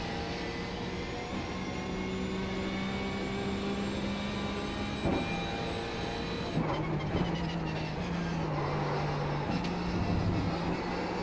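A Porsche 911 GT3 Cup race car engine in the iRacing video game at Watkins Glen drones loud and continuous, its pitch holding steady, then dropping and rising through gear changes with brief harsh revving bursts.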